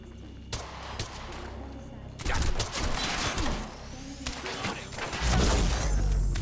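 Suppressive gunfire in the video game Quantum Break, dense bursts of rapid shots with crashing impacts that swell loud in two waves over a busy game soundtrack.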